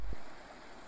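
Sarantaporos river flowing over stones, a wide river heard as a brief, steady rushing wash of water without any talking.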